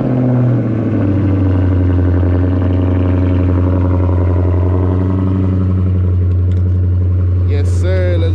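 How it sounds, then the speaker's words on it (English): Cold-started 2016 Dodge Charger R/T V8 idling loud and steady close by, a strong low rumble throughout with slight settling, a brief rattle near the end. "we will get y'all a nice little good cold start because I haven't tested in a while."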